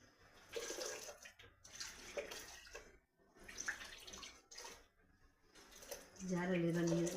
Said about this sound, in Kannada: ಜಾರಲ್ಲಿರೋ ನೀರಿಗೆ ಸ್ವಲ್ಪ ನೀರು ಹಾಕಿ